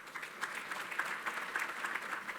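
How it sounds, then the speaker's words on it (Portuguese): Audience applause at a telecommunications industry conference in Brazil, welcoming a speaker to the stage: steady, dense clapping from a crowd throughout, with no speech over it. "Peço uma salva de palmas para a Cláudia."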